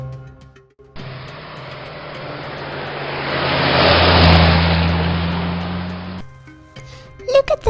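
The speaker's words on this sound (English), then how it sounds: "Ready, steady, drive in our new car for a safari." A new Range Rover drives off on a safari outing, its engine noise swelling to a peak and then cutting out, with a few short sounds after it.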